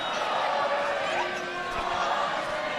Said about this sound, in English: It is lots of yelling back and forth.